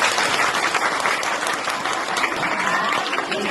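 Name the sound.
loud applause from the audience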